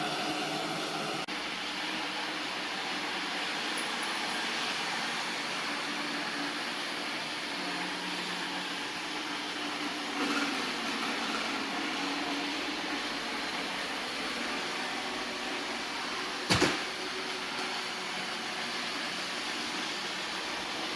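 An Ecovacs Deebot N79W robot vacuum runs indoors, giving a steady, fairly quiet whirring drone that holds level throughout, with one or two brief soft bumps partway through.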